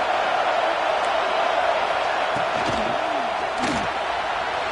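A stadium crowd roars at an American football game, a loud sustained wash of massed voices filling the whole stretch, with a few brief thuds rising out of it.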